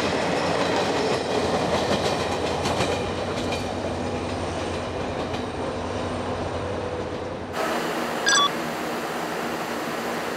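A slow passenger train on the Gyeongjeon Line in Korea rumbles steadily along the rails with continuous wheel clatter and carriage noise, close and fairly loud; the tone shifts partway through, with a few brief high squeals near the end.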